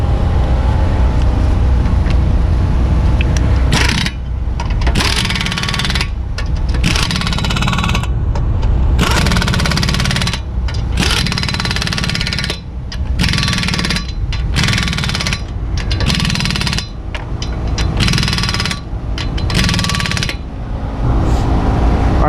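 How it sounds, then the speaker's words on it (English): Rapid, loud mechanical rattling of an impact tool tightening lug nuts on a 2013 Honda Civic wheel, sustained bursts broken by several short pauses. "once you're done tightening up those 5/19mm lug nuts"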